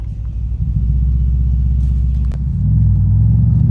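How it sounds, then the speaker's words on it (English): A Mercedes-AMG 63 with over 500 horsepower rumbles in Sport Plus mode at night, a deep, loud, steady engine drone heard from the driver's seat that swells slightly near the end. "I'm about to give you a little bit POV of the 63. Put you on Sport Plus."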